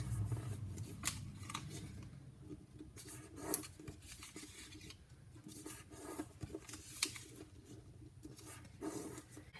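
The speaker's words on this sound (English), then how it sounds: "I'm just going to go ahead and fold things in half into a big triangle" Origami paper being folded into a big triangle and then creased, with soft crinkles, rubs and a few sharper crisp snaps at irregular intervals, close and quiet, without talk.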